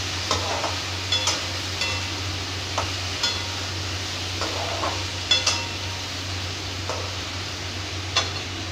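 Mixed chopped vegetables frying and stirred in a pan, a steady sizzle under repeated scraping stirs and light clinks of a utensil against the pan, close and continuous with no talk.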